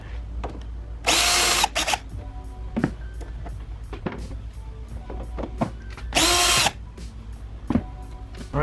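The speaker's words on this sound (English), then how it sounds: "we need to remove a couple of Torx screws" A power tool removes T30 Torx screws under the open bonnet of a Mk3 Ford Focus RS. Two short, loud whirring bursts stand out against faint clicks and handling noises.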